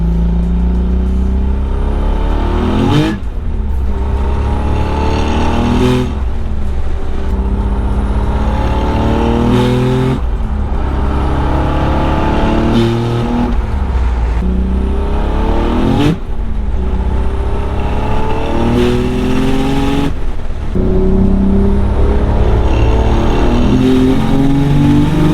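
A turbocharged car engine running at 17 to 18 psi of boost with an open wastegate, roaring loudly and steadily while revving up repeatedly in rising sweeps, each climb cut off sharply before starting again.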